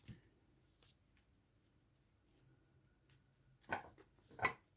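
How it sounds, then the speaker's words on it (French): Scissors snip through a ribbon while bookmarks are crafted, two crisp close cuts near the end after faint rustling and handling sounds. "Je coupe mon ruban."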